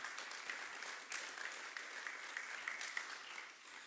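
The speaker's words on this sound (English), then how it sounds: "I would really appreciate a round of applause for all of them" Faint, distant applause from a conference audience in an auditorium at PyCon Greece 2025, steady clapping held at low level throughout.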